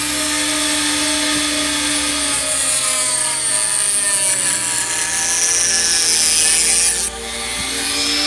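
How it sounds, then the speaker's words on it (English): A Dremel cutoff wheel cuts a plastic Estes Yankee model rocket part, producing a loud, continuous high-pitched whine with a grinding buzz that stops abruptly near the end as the tool winds down. "So using my Dremel cutoff wheel"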